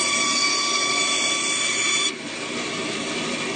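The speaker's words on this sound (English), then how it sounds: "So the bandsaw can only cut about that tight of a curve." A bandsaw blade cutting a tight curve, heard close as a steady, loud high-pitched whine and buzz of the running blade, which drops slightly in level and tone partway through, with no talk.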